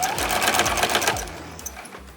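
A sewing machine runs steadily at close range as it stitches a diagonal quilting line across a fabric hot pad, its rapid mechanical rattle slowing slightly near the end, with no voices.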